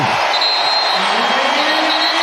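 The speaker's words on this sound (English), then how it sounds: "This crowd, very few have left, and they are up on their feet celebrating" Crowd in a basketball arena after a Boston Celtics first-round playoff win, a dense steady roar of cheering with whistles cutting through, loud and continuous, with a commentator talking over it.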